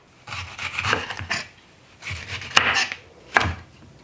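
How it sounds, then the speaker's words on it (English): A knife roughly chops a red pepper on a cutting board in quick bursts of close, crisp cuts separated by short pauses, with a sharper knock now and then. "And again, just rough chop."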